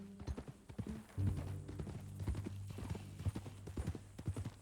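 Horse hooves clip-clopping at a steady walking rhythm in Red Dead Redemption 2, close and crisp, with a low background hum and a brief whinny-like tone mixed in.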